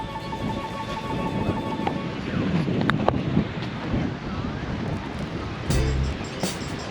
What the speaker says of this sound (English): It's pretty windy today, but it's beautiful.